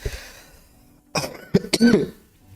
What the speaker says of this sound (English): I'm coughing more now